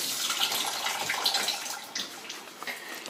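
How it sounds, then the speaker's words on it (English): Running tap water splashing over hands being washed at a kitchen sink while baking a cheesecake, a steady broadband rush with small splashes and drips, moderately loud and continuous with no talking. "Give my hands a little wash."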